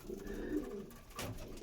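Andhra breeding pigeons, a red-flecked pair, coo in low rolling phrases, close and fairly loud, with a brief rustle near the end.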